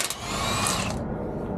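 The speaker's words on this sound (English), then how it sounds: "Maybe the impact will bust them loose." An impact wrench loosens tight lug nuts on a heavily loaded truck axle in a short, loud whirring burst that cuts off abruptly after about a second.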